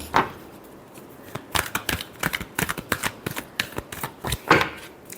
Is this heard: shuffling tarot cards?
yes